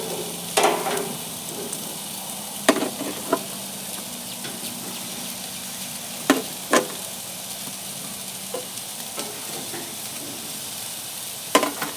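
Lobster tails sizzle on a grill for a surf and turf dinner, a steady close hiss with occasional sharp pops and clanks of tongs scattered throughout, and no talking.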